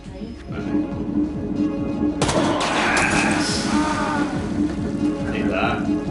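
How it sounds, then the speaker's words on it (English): A gunshot fired in the video game Hidden Agenda, a sharp broadband crack about two seconds in that gives way to a busy spread of rattling game sound, over steady low rumble with people talking throughout. "No, I'm shooting him."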